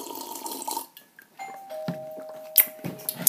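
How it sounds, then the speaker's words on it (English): A doorbell chimes up close, two sustained tones ringing one after the other, with a few clatters and bumps around it. "Doorbell!"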